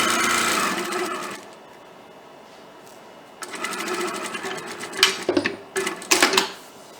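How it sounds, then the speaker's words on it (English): A sewing machine stitching fabric runs in a fast, whirring clatter, pauses into near quiet, then starts again in bursts with a few louder mechanical thumps, close by. "Then I'm going to sew my next one."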